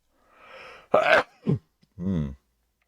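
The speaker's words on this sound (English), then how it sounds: "Sneezes in the middle of filming, folks" A single sneeze: a sharp inhale, an explosive burst, then a short follow-up sound and a breathy exhale, close and loud.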